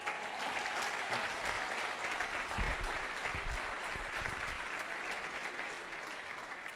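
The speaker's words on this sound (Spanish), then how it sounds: "Escucha este aplauso." Steady, full applause from a congregation-style audience at a sermon, a dense continuous wash of clapping lasting several seconds with a few louder hand claps near the middle.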